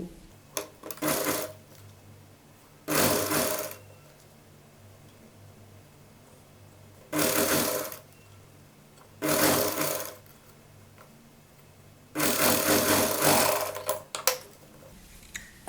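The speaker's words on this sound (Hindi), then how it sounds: "सिलाई हम पाइपिंग और कपड़े के बीच में लगाएंगे।" A domestic sewing machine stitches a seam between piping and fabric on a child's Patiala dress, running in five separate bursts of a few seconds each with quiet pauses between.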